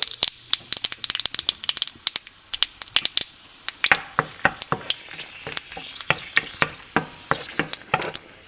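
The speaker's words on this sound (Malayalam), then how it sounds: "നമുക്ക് കടുക് ആദ്യം പൊട്ടിക്കാം അതിലോട്ട് ഉണക്കമുളക്" Mustard seeds and dried red chillies splutter in hot oil for a coconut chutney tempering, a rapid, loud crackle of countless sharp pops that keeps going close by, with no speech.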